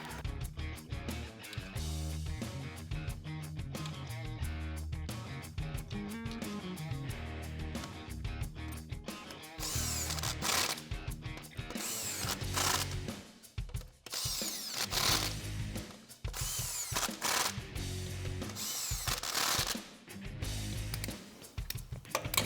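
Impact gun running lug nuts onto billet wheel spacers on a 2012-2018 RAM 1500, heard as loud, close rattling hammering bursts, with several separate runs broken by brief pauses.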